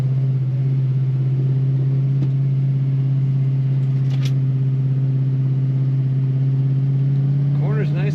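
A 1965 Ford Mustang restomod coupe with an open-element air cleaner, heard from inside while driving in second gear: a loud, steady low engine drone that holds throughout, with a slight rise in revs near the end.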